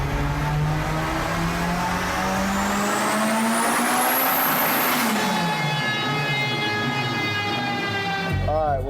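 A turbocharged Brazilian car with a swapped Volkswagen AP engine revs hard, rising in pitch through the gears with a whistling turbo spool, then dropping off and surging again, loud and close with some background voices.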